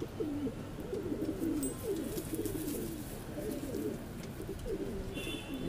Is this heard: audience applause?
no